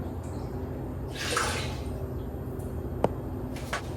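A little water swished around inside a can of crushed tomatoes for pasta sauce, giving one short sloshing burst followed by a couple of faint metallic clinks in a quiet kitchen.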